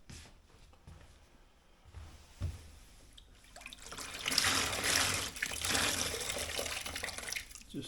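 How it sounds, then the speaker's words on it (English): Warm water sloshes and trickles as a wet sponge is squeezed and wiped nearby on wooden stairs, growing louder toward the end; no voices. "Just warm water and a sponge I use to wash my cars"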